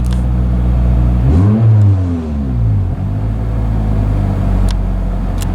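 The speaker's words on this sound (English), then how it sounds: "Idle is staying so high." Car engine idling high after a transmission replacement, a steady loud hum near the listener with a brief rising-and-falling rev sweep partway through.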